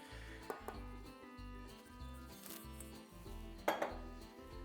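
Flour is mixed into gingerbread cookie dough in a bowl, giving soft rhythmic scraping and thudding stirs, with a few sharper clinks of utensil against the bowl and a low hum underneath.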